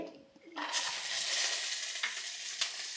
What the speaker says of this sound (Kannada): ಬಸ್ಸಾರಿಗೆ ನಾನು ಹುರ್ಕೊಳ್ಳೋಕ್ಕೆ ಸ್ವಲ್ಪ ಎಣ್ಣೆ ಹಾಕ್ತಾಯಿದ್ದೀನಿ